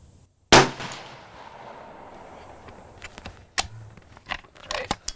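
A single sharp rifle shot rings out loud and close at a shooting range while a riflescope is sighted in, followed by a long decaying echo, then scattered metallic clicks and clacks of handling the rifle and single-loading rounds.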